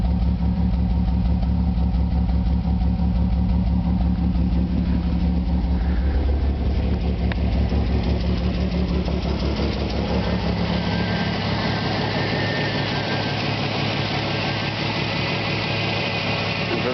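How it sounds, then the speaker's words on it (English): A 1984 Buick Skylark idling with a Flowmaster exhaust, heard from behind the car: a steady, loud, lumpy low rumble with a constant pulsing throb that continues without a break. "You can really hear the lump in the idle back here."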